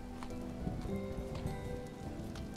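Steady rain falling in the video game Vintage Story, a continuous hiss of drops pattering on surfaces with soft tapping detail, filling the whole stretch at an even moderate level with no talk.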